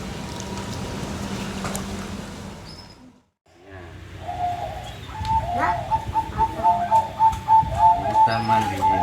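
Soft repeated cooing of a young five-month-old zebra dove over steady background rumble and faint water-like noise during bathing, with a brief near-silent gap partway through.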